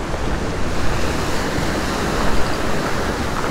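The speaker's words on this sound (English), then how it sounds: "Water's very rough." Rough, sandy sea surging against the rocks at Galveston, with loud, constant surf roar and gusting wind buffeting the microphone, swelling slightly in a couple of places.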